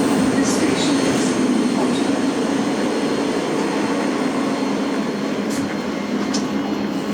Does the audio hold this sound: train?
yes